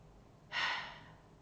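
A single deep breath, a sudden soft breathy rush that swells and then slowly fades, close and alone against a quiet room.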